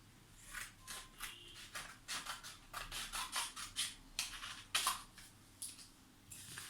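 Scissors snip through paper as a rectangle is cut out for a children's cardboard ship craft. The cuts come as a quick series of close, crisp, fairly soft snips and rustles, with no voices.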